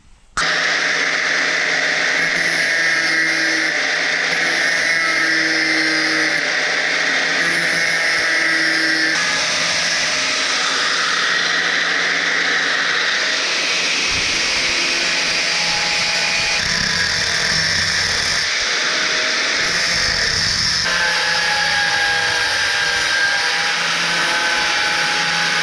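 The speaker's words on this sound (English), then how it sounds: "that little wedge needs to be ground off. So I'm going to do that." An angle grinder grinds a wedge off a steel scroll-bending mandrel in a blacksmith shop, giving a loud, steady, high whine that runs for the whole stretch and shifts pitch now and then as pressure on the work changes.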